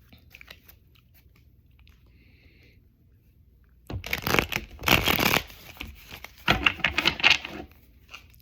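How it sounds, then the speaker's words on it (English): After a quiet stretch, a deck of tarot cards is shuffled in several quick, crisp riffling bursts close by, with no talking. "I just had to shuffle a little bit more"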